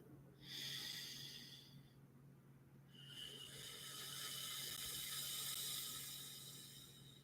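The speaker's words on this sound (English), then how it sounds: "One of the ways of letting go is taking a deep breath." A slow, deep breath drawn in and let out, airy and close, with a soft hiss starting early, pausing briefly, then a longer exhale swelling to the end; no talking.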